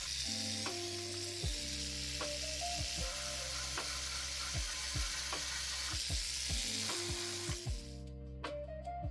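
A DSPIAE ES-A electric sander works over a blue-filament 3D-printed Iron Man helmet piece, smoothing away support scarring. It gives a steady, close, dense hiss with a shifting motor whine for about eight seconds, then cuts off abruptly.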